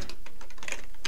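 Close fingers typing a command on a computer keyboard, a quick uneven run of about a dozen crisp key clicks packed into a second.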